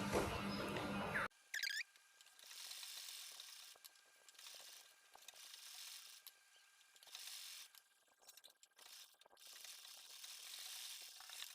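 A sewing machine runs in steady bursts while stitching all around a neck design cut into a kameez front, its mechanical whir pausing and restarting, heard alone and fairly close after a brief loud start.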